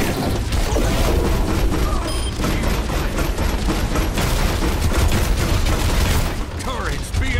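Torbjorn's deployed turret in the Overwatch game fires dense, continuous automatic bursts that are loud and close, mixed with impacts and other battle noise.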